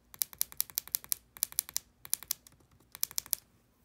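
Keys on a MacBook butterfly keyboard are pressed in quick bursts of sharp, close clicks that come in clusters with short pauses between them, quiet, with no voice heard.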